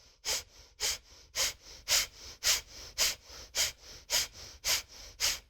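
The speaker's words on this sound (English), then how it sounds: "keep with the breath of fire" Rapid, forceful breath-of-fire breathing in a Kundalini yoga session, about a dozen sharp, evenly spaced nasal exhalations close to the mic, each a loud puff separated by short quiet gaps.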